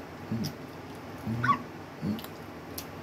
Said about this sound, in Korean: 엄마, 강아지가 자꾸 따라와요.